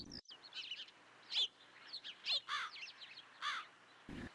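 Small birds chirp and tweet in quick bursts while crows caw now and then around a village road, all fairly clear against a quiet background, with a couple of soft thuds.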